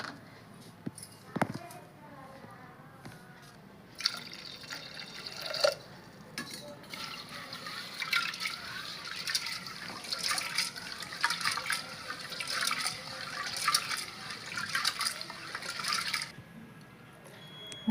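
Water splashes and swirls as a cup of toor dal lentils is rinsed by hand in a vessel, producing uneven sloshing bursts with occasional sharp clinks, while someone talks.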